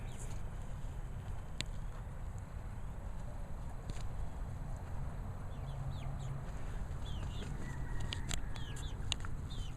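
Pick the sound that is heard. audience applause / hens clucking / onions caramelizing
hens clucking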